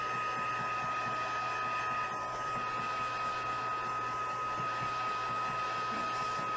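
Heat tool blowing steadily at close range while heating and drying a paper tag, a constant broadband whoosh with a steady whine running unbroken throughout.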